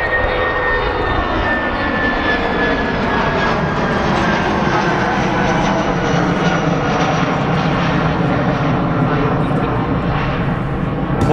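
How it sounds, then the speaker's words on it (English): A British Airways shuttle airliner takes off at Manchester Airport, its jet engines producing a loud, sustained roar with a rising whine, steady and close throughout. "Up already, the British Airways shuttle service."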